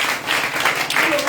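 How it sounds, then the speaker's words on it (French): A church congregation bursts into acclamation for the Lord with broad, continuous applause, a dense wash of clapping hands heard up close, mixed with cheering voices. "Acclamons le Seigneur."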